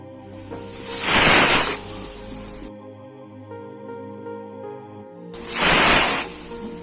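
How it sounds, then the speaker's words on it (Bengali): Two loud, sustained hissing whistle blasts burst from a pressure cooker cooking chickpeas for chana masala, each lasting under a second, separated by a quieter stretch of low kitchen hum. "অন্যদিকে প্রেশার কুকারে দুটো সিটি বেজে গেছে"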